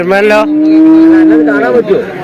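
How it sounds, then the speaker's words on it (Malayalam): A young male water buffalo calf lets out one long, loud, drawn-out moo that wavers in pitch and tails off, close to the listener, at a farm where calves are being sold. "ഇത് പോത്താണ് എരുമല്ലത്"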